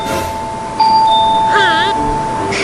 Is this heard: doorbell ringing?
yes